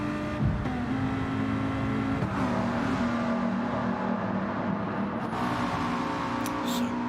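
Lamborghini and Bugatti race cars in a racing video game, a continuous engine drone with shifting pitch and revving, steady and fairly loud.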